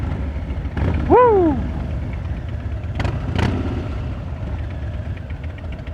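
A Harley-Davidson Crossbones motorcycle runs on a test ride, a steady low engine rumble throughout with a rising rev near the start and a rider's brief shout over it.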